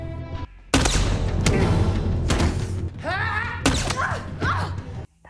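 Gunshots ring out in a film scene, several sharp loud bursts in quick succession separated by brief pauses, with short cries and shouts between the blasts.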